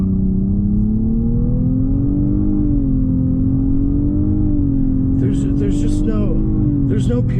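A 2019 Nissan Maxima SR pulls away from a stop, its engine note rising steadily and holding a droning tone over a continuous low road rumble, with someone talking briefly near the end.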